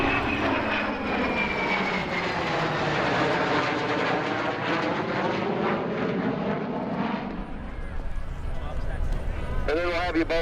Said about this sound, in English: that's followed by a short Growler demonstration.